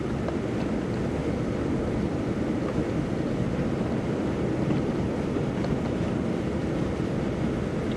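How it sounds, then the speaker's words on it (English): Strong wind gusting through a heavy blizzard in Marquette, Michigan, a constant loud rushing roar buffeting the microphone with no breaks and no voices. "Ooh, that was a strong gust."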